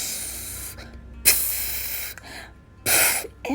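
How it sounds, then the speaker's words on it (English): A spray bottle filled with a mix of water, coconut oil and essential oil spritzes onto hair, giving three short hissing bursts separated by brief pauses, close and clear with no talking. "I got some coconut oil, essential oil,"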